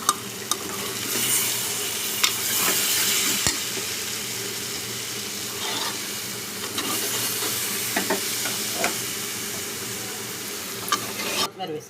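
Flat beans and tomato curry with chilli powder, coriander and curry leaves sizzle steadily in a pan as a spoon stirs them, giving a constant frying hiss broken by scraping strokes.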